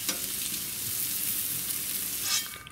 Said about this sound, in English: we'll slowly cook these onions till they're a nice soft brown